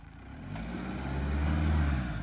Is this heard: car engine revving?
yes